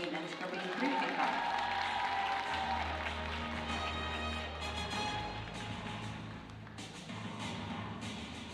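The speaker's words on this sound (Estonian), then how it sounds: "Aplaus!" Audience applause at a rhythmic gymnastics championship award ceremony, with sustained clapping from a crowd in an indoor hall and music playing underneath.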